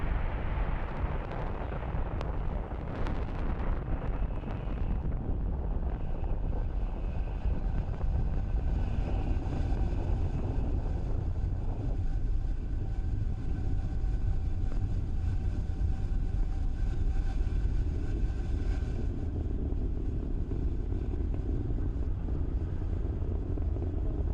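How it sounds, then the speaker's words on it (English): SpaceX Falcon 9 rocket lifting off with the BlueWalker 3 and Starlink satellites, a loud, continuous broadband roar that stays steady and dense throughout with no voices. "What you are seeing on your screen is Falcon 9 accelerating AST SpaceMobile's BlueWalker 3 and our Starlink satellites into space."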